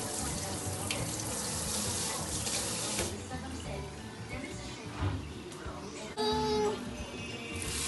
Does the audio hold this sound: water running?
yes